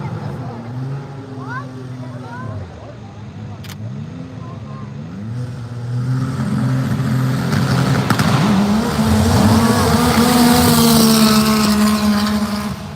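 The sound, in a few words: off-road side-by-side race engine at full throttle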